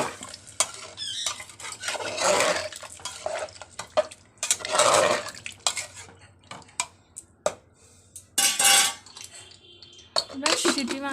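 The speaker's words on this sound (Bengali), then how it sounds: "এবার আমি জল ঢেলে দেবো" A vegetarian village-style vegetable curry cooks in a pan as water is poured over frying spiced vegetables, bringing bursts of sizzling, stirring and clinking utensils at close range, with quiet gaps between.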